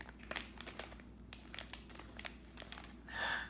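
Plastic packaging of a K'nex surprise character pack crinkles and crackles up close in quick irregular bursts, ending with a louder tearing rustle, with no talk.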